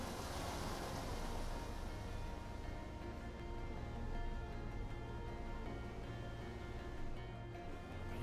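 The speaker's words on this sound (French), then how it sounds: "La petite musique des cascades là." Waterfalls rush in the video game Outer Wilds as a soft, continuous wash of water noise that stays low and steady throughout, with no voices.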